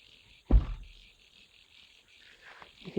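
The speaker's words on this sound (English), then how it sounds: "You can hear all the frogs." Frogs call at a dam: a single loud, low croak stands out near the start, with a steady chorus of higher chirping calls running underneath. A fainter croak follows near the end. The setting is otherwise quiet outdoors.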